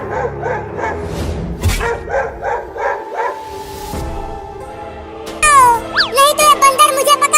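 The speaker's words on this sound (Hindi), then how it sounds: "वो कुत्ते उस लकड़ी के घर के सामने भौंक रहे हैं" Several cartoon dogs bark and yip in quick bursts in front of a wooden house in a Hindi animated cartoon, over a busy, music-like background, with high whistling tones near the end.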